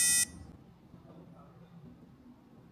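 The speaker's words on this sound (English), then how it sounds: "wait for the T1000-E buzzer to sound" A short, sharp electronic buzzer beep from a SenseCAP T1000-E Meshtastic tracker sounds once at the start, then cuts off, leaving quiet low background noise.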